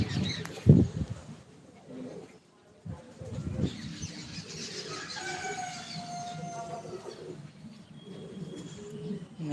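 Pigeons being flown in the morning coo softly in low, rolling bursts, with a few chirps and a brief flutter of wings nearby, all fairly faint against outdoor background noise.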